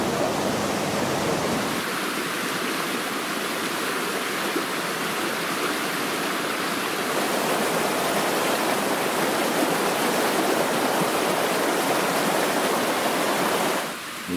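Mountain stream flowing out of colored lakes as a tributary of the Left Taygish river, a steady, close, full rushing of water that continues unbroken with no voices.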